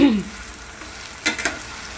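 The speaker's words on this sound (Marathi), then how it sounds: "आपले बटाटे मस्तपैकी भाजून होत आहेत" Diced potatoes fry in a pan for sabudana khichdi, giving a steady broadband sizzle throughout, with a couple of brief clinks of a spoon near the end.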